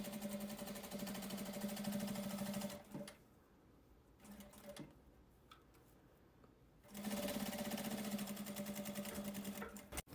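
A sewing machine runs a short seam of a porta esmaltes (nail polish holder) with a 0.5 cm margin, whirring loudly and steadily, pausing about four seconds mid-clip with faint handling sounds, then starting again at full speed.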